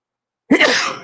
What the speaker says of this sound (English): That's why you see me sneezing on here right now.